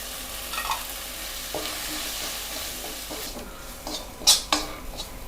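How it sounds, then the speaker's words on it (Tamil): Spice powder is stirred into tomato masala in a pan for a peas, potato and pepper kuruma, a steady scraping stir over low sizzling, with a couple of sharp utensil clinks toward the end. "இப்போ பொடி போட்டு அடுப்பை ஸ்லோவில் வச்சுட்டு இதை நல்லா ஒரு வாட்டி கலந்து விட்டுக்கலாம் இந்த மசாலாவோட."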